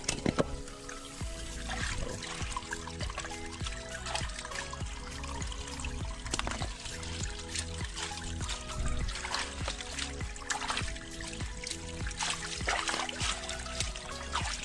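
Water trickling and pouring while a bush water catchment in Jamaica is washed out, a close, continuous splashing dribble with irregular knocks and clatter throughout.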